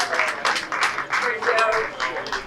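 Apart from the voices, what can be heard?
audience applause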